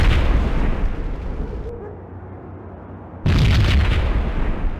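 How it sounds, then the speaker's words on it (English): A bomb blast in the Max Payne video game hits as a loud, sustained booming roar that thins briefly in the middle, then slams back in at full force with heavy low rumble. "Another bomb exploded inside the closest slum building."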